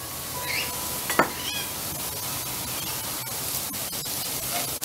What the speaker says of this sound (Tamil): இப்போ நம்ம நசுக்கி வச்சிருக்கிற இந்த மிக்சரை வதக்கிக்கலாம்.